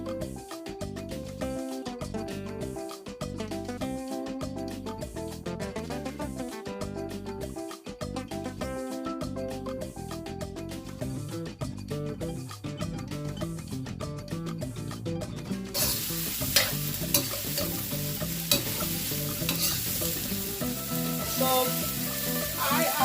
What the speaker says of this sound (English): so we just fry all of that up